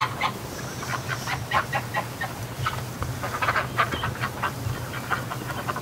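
Ducks calling outside at night during a snowstorm, a run of repeated quacks and honks at moderate distance over steady wind-like noise, no talking.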